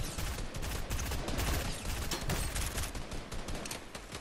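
Gunfire in a Fortnite duo match, with dense rapid shots and crackling impacts filling the clip, loud and continuous, mixed with other game noise.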